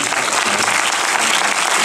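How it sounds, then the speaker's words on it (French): Loud, dense applause from a cinema audience at a film premiere, a thick continuous wash of clapping with no voices rising above it. "Ça mérite un applaudissement énorme."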